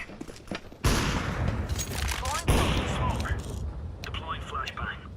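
Decoy grenade in a competitive first-person shooter match mimicking gunfire, dense bursts of rapid shots that start abruptly and repeat in clusters, with a second volley midway and quieter mechanical clicks near the end.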